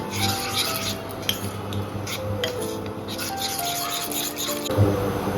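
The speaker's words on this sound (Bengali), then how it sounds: "সেই তেল থেকে 1 চামচ তেল আমি এই ব্যাটারে মিশিয়ে দিচ্ছি।" A spoon stirs hot oil into batter for jute leaf fritters, making soft scraping and rubbing sounds against the bowl that run steadily, close up, over a faint background hum.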